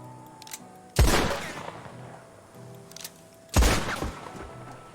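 Two loud gunshots from weapons in a western roleplay video game, spaced a few seconds apart, each a sharp blast with a short decaying tail over a low steady game background.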